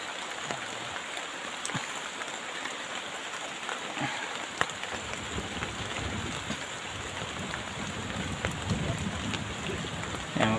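Steady rain pours down across the whole stretch, a dense continuous hiss of drops on surfaces with occasional louder patters, no voices over it.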